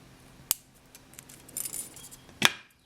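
Wire cutters snip through a thin wire wrapped around a braided kumihimo cord, giving two sharp metallic clicks about two seconds apart, close and quiet, with faint rustling between them.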